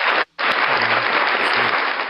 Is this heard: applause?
yes